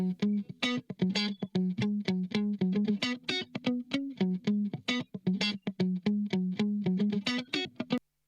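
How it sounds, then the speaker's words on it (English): A dry, funky electric guitar lick of short, choppy plucked notes in a steady repeating rhythm, played close and alone without reverb, ending abruptly. "So I've got this quite sort of funky guitar lick,"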